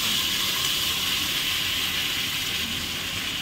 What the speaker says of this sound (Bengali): এবারে গরম জলটা আমি দিয়ে দেবো।